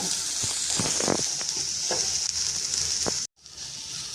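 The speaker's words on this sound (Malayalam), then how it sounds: "അപ്പോൾ ഇത്രയും ചേർത്തിട്ട് നമ്മൾ ഒന്ന് മൂപ്പിക്കണം" Onion and chili powder sautéing in a pan for keto paneer masala, a loud continuous sizzle with repeated stirring scrapes, cutting out abruptly near the end before a quieter sizzle resumes.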